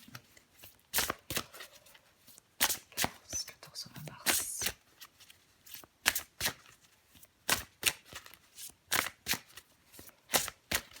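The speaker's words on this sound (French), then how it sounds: "Je vais encore tirer une carte pour vous" Tarot cards being shuffled and drawn during a French horoscope reading for Libra, giving a close, repeated riffle of crisp paper slaps and flicks in irregular bursts, with no voice over the shuffling.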